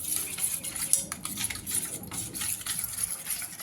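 A spoon scrapes and clinks in a bowl while mixing curd with black pepper for dahi toast. The stirring is soft and close, with quick irregular taps and a light rustle.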